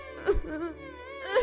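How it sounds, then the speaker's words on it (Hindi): A woman alone in a dense forest cries with a brief wavering, whimpering moan in a cartoon story, close and fairly quiet. "इस घने जंगल में कौन रो रहा है?"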